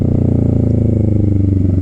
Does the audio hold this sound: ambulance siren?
no